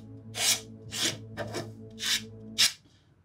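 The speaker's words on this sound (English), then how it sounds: "Shush now. Daddy's sanding." Wood being sanded by hand in a workshop while making a handcrafted wooden eel spoon, five rhythmic rasping strokes, close and fairly loud, with a low hum beneath.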